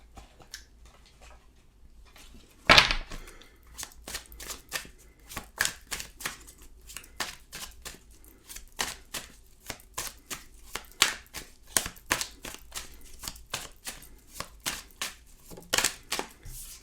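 Tarot cards are handled, shuffled and drawn close up, a series of sharp flicking snaps and soft slides in an irregular rhythm, fairly quiet, with no voices.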